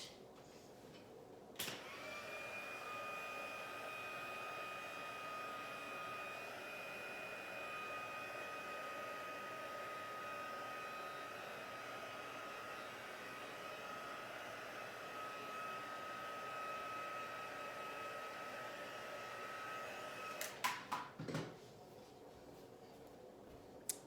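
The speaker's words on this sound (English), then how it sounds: "I have a Stampin' Up heat tool, which is totally fine." A Stampin' Up embossing heat tool blows hot air, a steady whirring running continuously for about twenty seconds with a faint high whine, then clicks off.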